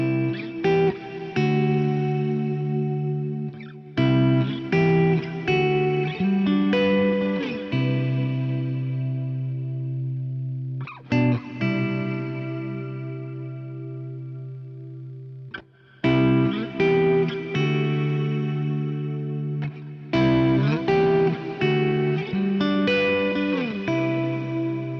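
Kemper Profiler guitar effects demo: distorted electric guitar chords ring out with chorus and echo tails, played in separate phrases with short gaps between them. The guitar plays alone at a moderate level.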